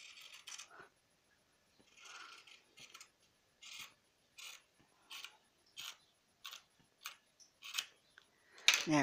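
Scissors cutting fabric for a pillow slip cover: a series of crisp snips comes in a quick, fairly even rhythm, close and moderately quiet, ending in a louder rustle of fabric, with no voices.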